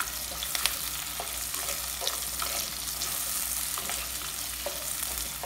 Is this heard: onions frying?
yes